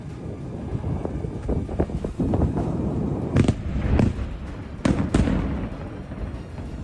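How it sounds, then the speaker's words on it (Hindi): Repeated blasts from drone and bomb strikes sound amid continuous rumbling and wind-buffeted noise, with several sharp, loud cracks standing out over a steady roar, and no talking. "काफी देर तक धमाके की आवाज आती रही, एक के बाद एक विस्फोट होते रहे।"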